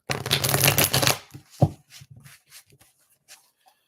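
A deck of tarot cards is riffled in a dense, close shuffle lasting about a second, then a sharp tap and a few soft, scattered card flicks follow in quiet.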